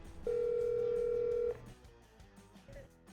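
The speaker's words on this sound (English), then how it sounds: "I picked up the phone and called Contractors." A single steady telephone dial tone sounds loudly and alone for about a second and a quarter as a call is placed, then cuts off into faint background noise.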